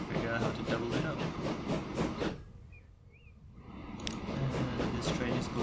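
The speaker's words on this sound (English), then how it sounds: "And this train is going back." A train runs along a line in the Transport Fever 2 game, its steady rolling rumble and hiss filling the scene, briefly dropping away to near quiet before building back up.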